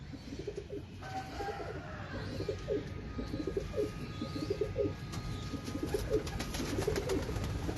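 Tady pigeons in a loft coo in repeated, rhythmic low phrases, several birds overlapping at moderate volume, with faint rustling and no speech.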